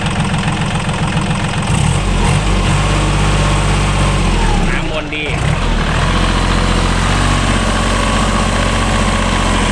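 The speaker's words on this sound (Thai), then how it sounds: "เร่งเครื่องหน่อยครับ" A 2011 Kubota L3008 tractor engine runs loudly and steadily close by, with a brief dip midway before it picks up again, while someone talks over it.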